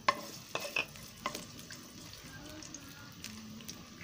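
Garlic frying in a pan for Filipino pork menudo, a quiet sizzle broken by a few scattered scrapes and taps of a utensil, close but faint, with no talking.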